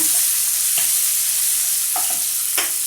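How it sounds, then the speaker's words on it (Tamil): Onions, cashews, dried red chillies and curry leaves sautéing in hot oil for carrot rava upma, a loud continuous sizzle with a few brief spoon scrapes, close up and with no voices. "வரமிளகாய், கருவேப்பிலை நல்லா எண்ணெயிலே நல்லா வதக்கி விடுங்க."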